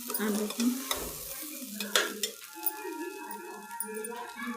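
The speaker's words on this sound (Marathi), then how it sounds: "आता मूग डाळ टाकल्यानंतर हलवून घेते" Moong dal being stirred as it fries in a pan for khichdi, with scraping spoon strokes and crackling sizzle, a voice talking over it.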